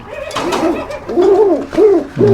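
A silver pigeon coos close and loud, giving three or four rounded, rolling calls in quick succession.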